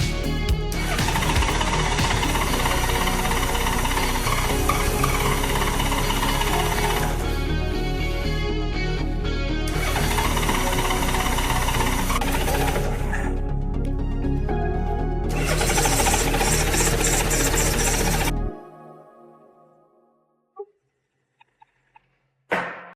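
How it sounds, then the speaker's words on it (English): A Honda Gold Wing GL1500 motorcycle engine cranks repeatedly without catching. Long, loud stretches of mechanical starter churning are broken by brief pauses, then the noise stops abruptly and a few faint clicks follow in near silence. "Now it's got fuel and power, so we can try starting it up."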